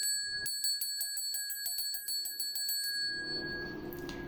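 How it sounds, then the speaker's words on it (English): A bright bell rings in rapid, repeated strikes for about three seconds, its clear tone hanging and fading into a soft hiss. "this golden bell."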